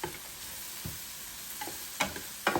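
Onions sauté in a Power XL electric cooker with a soft, steady sizzle, punctuated by a few clinks and scrapes of stirring toward the end, heard close up without voices.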